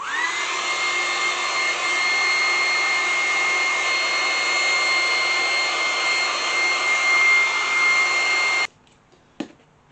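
A hair dryer or heat gun drying decoupage rice paper roars at a loud, constant pitch for about nine seconds, then cuts off abruptly, leaving a brief click in near silence.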